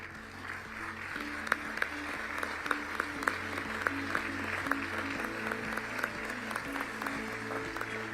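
Conference audience at the Our Ocean Conference in Mombasa applauding, a sustained even wash of many hands clapping heard from a distance.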